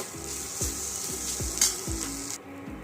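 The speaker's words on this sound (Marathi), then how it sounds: "आता आपण जो पांढरा भात बनवून घेतलेला होता तो याच्यामध्ये टाकून घेऊ आणि याला छान असं वेल मिक्स करून घेऊया पूर्ण ठेच्यासोबत" Cooked white rice stir-fried with thecha in hot oil, a bright steady sizzle with a spatula scraping the pan roughly every half second, close and alone, cutting off near the end.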